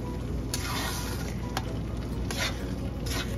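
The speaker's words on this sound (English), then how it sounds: "Now I'm going to mix it up." A spoon stirs lentil soup in a pot on the stove, with steady scraping and a few sharper clicks against the pot under a constant simmering hiss.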